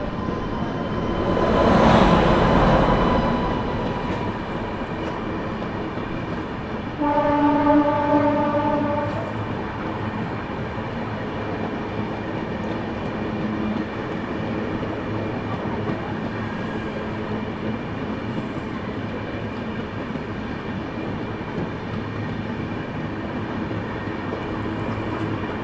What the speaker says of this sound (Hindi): यहाँ पर अपने से क्रॉस होती हुई कामाख्या से चलकर दिल्ली की ओर जाने वाली ब्रह्मपुत्र मेल